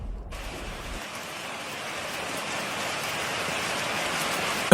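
Rain pours down in an animated Bengali fairy-tale cartoon, a steady hiss that starts abruptly after a brief low thump and then gradually swells in loudness, with no voices over it.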